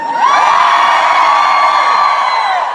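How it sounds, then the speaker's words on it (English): A concert crowd yelling and cheering, a loud sustained chorus of high-pitched screams and whoops from many voices that swells and holds without a pause. "I heard some screaming that didn't sound, it sounded like you were in pain."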